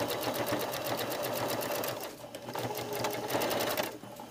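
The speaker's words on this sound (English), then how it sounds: "I need my seam allowances to be flat, and I need to stop sewing about 1/2 an inch." A sewing machine stitching a welt pocket on a jacket runs steadily with a fast, even motor whir, dips briefly, then resumes before stopping, with no talking.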